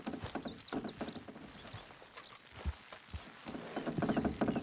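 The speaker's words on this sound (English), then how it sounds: "Horses will pull it clean down." Horses strain to pull something in the video game Red Dead Redemption 2, with clopping hooves and scuffing steps in irregular bursts, building toward a louder cluster at the end, with no talk over it.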